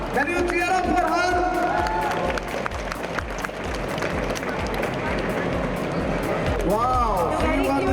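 An audience at a junior chef competition in a shopping mall claps and cheers for a runner-up, a lively wash of applause and crowd noise with voices talking over it throughout.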